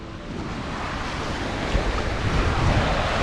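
Ocean waves wash onto the beach at Paihia in New Zealand's Northland while wind buffets the microphone, a steady roaring surf that builds slightly louder.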